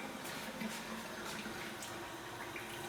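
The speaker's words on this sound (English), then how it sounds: "I come in here, the bathroom and all the faucets are on" Several bathroom faucets run at once in a house with an overloaded tankless water heater, giving a steady, soft, even hiss of flowing water with no voices.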